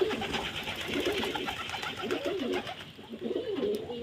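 Pigeons on a rooftop coo repeatedly in soft, rolling phrases while feeding, several birds overlapping at close range against light background noise.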